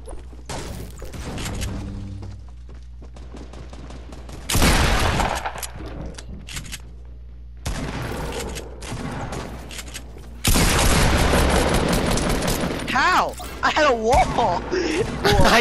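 Gunfire from the Fortnite video game in loud bursts of rapid shots separated by quieter stretches, with heavy blasts and crashing impacts, mixed with a voice talking throughout.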